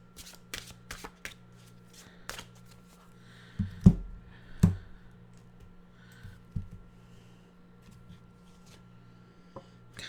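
Cards riffled and shuffled in a few short bursts, with sharp slaps and soft flicks separated by quiet pauses, close by.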